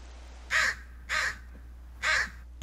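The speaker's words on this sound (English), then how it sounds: "Damn you, crow." Three loud, harsh crow caws at steady intervals in The Forest video game, each call short and close, set against a low constant hum with no talking.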